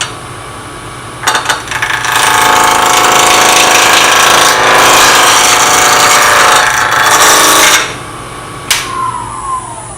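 A woodturning lathe spinning at about 1,000 RPM while rough shaping, a loud sustained whirring and scraping that starts abruptly, holds steady for several seconds and then cuts off, with a brief knock afterward.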